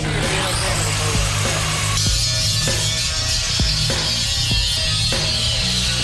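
A power tool cuts a hole in a car floor panel to clear the differential. The grinding, rasping noise is loud and continuous, with metallic scraping and brief surges.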